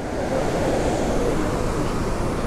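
Fast, forceful water rushing beneath the Bisle Ghat bridge near Sakleshpura makes a dense, constant roar, loud and unbroken, with no voices.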